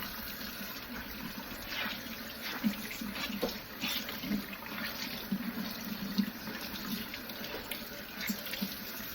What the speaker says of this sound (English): Put a little bit of water on it.